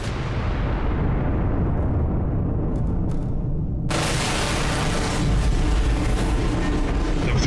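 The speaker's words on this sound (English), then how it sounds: "Explosions." Explosions from attacks on Kyiv at the start of the war: a heavy, sustained low rumble that builds and then bursts into a loud, broad blast partway through, rolling on continuously afterward.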